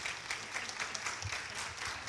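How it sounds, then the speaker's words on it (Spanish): Audience applause for speaker Nicolás Martins at the close of a university economics conference, a steady, moderately faint patter of many hands clapping throughout the short stretch. "Muy bien, un fuerte aplauso para Nicolás."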